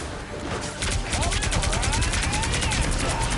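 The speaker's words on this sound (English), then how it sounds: "Here's the barrage thing again, where you can just shoot with your gun" Video-game gunfire in a rapid barrage, a dense stream of repeated shots that starts after a brief lead-in and keeps hammering loudly to the end, with whooshing effects mixed in.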